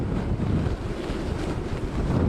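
Hurricane Irma wind gusting through Brickell, Miami beside the water, a steady loud broadband roar buffeting the microphone with no pauses and no voices.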